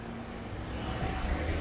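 A delivery truck rolls past in a quiet residential west-side neighborhood, a faint low engine rumble that swells slightly toward the end with no talking.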